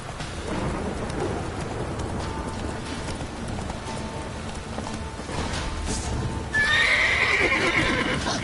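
Roach, a horse, gives a loud close whinny near the end, after steady hoofbeats amid rain and rumbling thunder.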